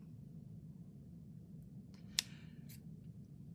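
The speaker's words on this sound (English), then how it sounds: "Maybe let's cut this off and see what we get." Scissors snip once through a pretty piece of lace fabric while a fabric journal is being made, a single crisp cut standing out from a quiet, low room hum.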